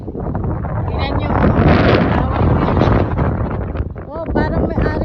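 Strong wind buffets the microphone on a farm, a loud, steady rushing roar with gusts that swell and fade, while a voice talks briefly near the end.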